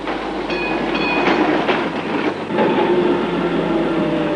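A tram runs on its rails through a city centre, a steady loud rumble with rhythmic clicks and wheel noise, close by and continuous, with no voices over it.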